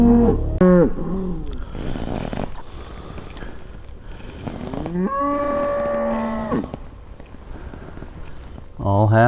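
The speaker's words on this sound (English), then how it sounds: "Only took about 4 or 5 minutes and the cattle are moved." A herd of cattle being moved on a regenerative ranch lows repeatedly, with loud close moos rising and falling over a steady outdoor background.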